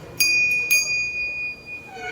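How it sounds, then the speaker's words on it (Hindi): Two quick strikes on the door bell of a Hindu temple at Batu Caves, Malaysia, ring out close, leaving a clear metallic tone that hangs and slowly fades over faint background noise. "तो दोस्तों यहाँ दरवाजे में भी घंटी है"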